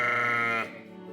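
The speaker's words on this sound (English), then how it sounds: "ewes nuzzled their newborn lambs under the warm glow of fairy lights. The air was filled with gentle bleats" One loud, close sheep bleat at a ewe and lamb gathering, a steady wavering tone that holds for over half a second, then falls into a quieter tail.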